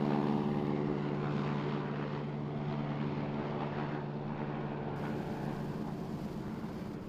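A de Havilland Beaver floatplane drones steadily overhead in a continuous propeller-engine hum that fades slightly, with no voices.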